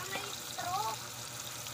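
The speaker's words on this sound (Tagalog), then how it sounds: "giluto ako ng pritong boneless na bangus. Ayan. Kasi lumalaban siya, oh. Grabe, tumatalsik talaga yung mantika niya." Boneless milkfish (bangus) frying in spattering oil, a faint, steady crackling sizzle with a brief voice-like tone partway through.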